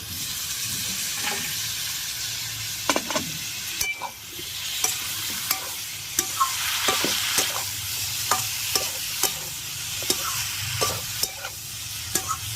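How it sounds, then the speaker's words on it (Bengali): Boiled jackfruit hits a fried spice paste in a pan, sizzling steadily as a spoon stirs and knocks against the pan in repeated sharp taps, close and clear with no speech. "এবার এই সেদ্ধ করা এঁচড়টা আমি এর মধ্যে দিয়ে দিচ্ছি"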